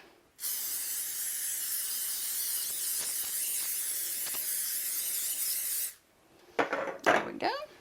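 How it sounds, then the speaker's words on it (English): Cooking oil sprayed lightly into mini muffin tins, a loud, close, continuous hiss lasting about five seconds, followed by a few short clattering knocks of the metal tins. "I'm going to spray lightly with cooking oil"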